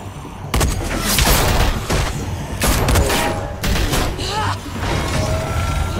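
Gunfire in The Walking Dead: Michonne game, loud bursts of shots and booming impacts in rapid succession over a dense rumbling background, with brief voices.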